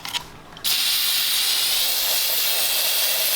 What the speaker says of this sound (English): we'll spray some pre down it.